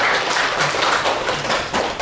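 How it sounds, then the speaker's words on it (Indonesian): A classroom applauding a student, with dense, roomy clapping heard throughout at a steady level. "beri tepuk tangan untuk."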